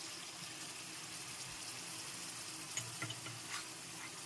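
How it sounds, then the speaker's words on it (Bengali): Tomato puree with ginger and green chilli paste frying in a pan for niramish aloo dum, a faint soft sizzle with a few quiet stirring scrapes near the end. "এখন টমেটো পিউরি আর আদা কাঁচা লঙ্কার পেস্টটাকে ভালো করে নেড়ে চেড়ে নিয়েছি"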